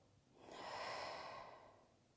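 A single slow, deep breath during a beginner yoga session, a soft airy whoosh that swells and fades over about two seconds, quiet and close with no talking.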